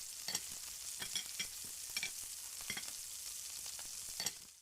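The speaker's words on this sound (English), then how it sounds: "Sauté for 2 minutes to kill the raw smell." Fresh ginger garlic paste sizzles steadily in a hot pan, a constant close frying hiss broken by periodic scraping strokes of a spoon stirring it.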